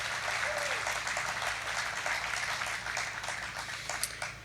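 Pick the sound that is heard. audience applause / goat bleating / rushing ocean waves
audience applause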